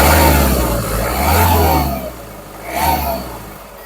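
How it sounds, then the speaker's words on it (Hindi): A Kia Seltos 1.5 litre diesel engine runs close by with a steady mid-low hum, swelling into two louder surges as it revs. "तो कुछ ऐसा साउंड करता है इसका डीजल इंजन"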